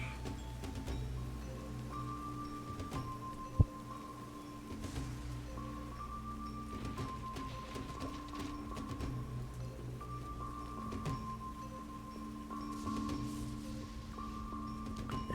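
Soft, continuous rain patter plays as ambient background during a tabletop role-playing game session, low and steady under sustained musical drones, with one brief sharp click.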